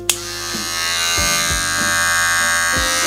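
A Wahl Magic Clip cordless hair clipper buzzes steadily and loudly close by, a constant motor hum with a sharp start and faint clicks as it's handled.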